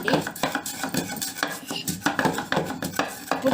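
Gongura leaves and green chillies ground by hand into chutney, giving a steady run of rhythmic scraping, tapping knocks close up, repeated several times a second with no talk.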